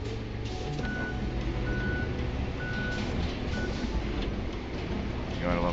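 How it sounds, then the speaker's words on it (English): A truck's reversing alarm in the Roadcraft video game beeps in a steady evenly spaced series of short tones over a loud rumbling engine and low background noise. "You gotta love that backup beep that you hear."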